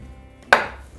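A single sharp knife chop through tofu on a cutting board, one crisp close impact that quickly fades into quiet.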